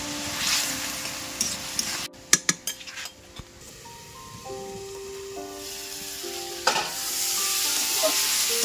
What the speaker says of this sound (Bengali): টমেটোটা আমি খানিকক্ষণ ভেজে নিয়েছি